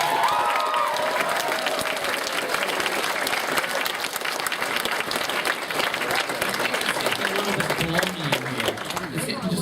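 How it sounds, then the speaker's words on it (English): Convention panel audience applauding the staff, a dense, loud wash of clapping with some cheering that fills the whole stretch, with faint voices mixed in. "let's give a round of applause to the Canterlot Artist staff"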